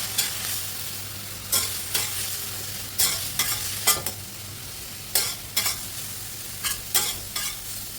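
Ground coriander, cumin, turmeric and red chilli powder fry in a pan with a steady sizzle, and a spatula scrapes through them in repeated strokes.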